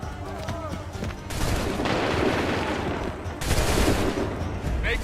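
Musket volleys crack out in Assassin's Creed 3 gameplay, dense bursts of gunfire arriving in two loud waves with a clamor of battle noise and shouted voices mixed in.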